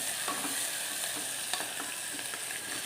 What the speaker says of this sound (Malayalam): ഇനി ഇത് രണ്ടും കൂടെ നല്ലപോലെ ഇതിനകത്തൊന്ന് ഇളക്കി